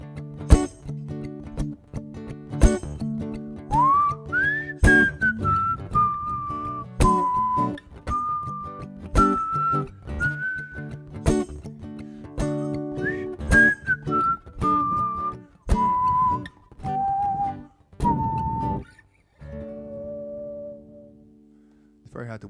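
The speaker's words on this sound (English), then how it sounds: "It's very hard to whistle and laugh at the same time." A man whistles a tune in a series of clear, wavering melodic phrases, with clinking and tapping sounds and background voices mixed in, ending on a long held note.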